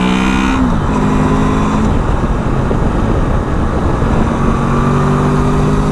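A 2018 Honda VFR800X Crossrunner motorcycle accelerates hard to overtake, its engine note climbing loud and close through the gears over constant roaring wind rush.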